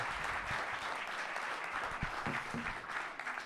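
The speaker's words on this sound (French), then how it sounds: "on peut les applaudir." Audience clapping at an evening event at the Château de Tournoël, a dense steady round of applause from a moderate crowd, close and even, holding for a few seconds.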